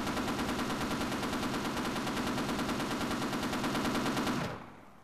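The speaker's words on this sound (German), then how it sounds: "dann schieße ich jetzt nochmal die Kisten ab" Rapid, continuous automatic gunfire in the video game Half-Life: Source, shooting at crates. The dense burst runs loud and unbroken for over four seconds, then cuts off into a short fading tail, with no talk.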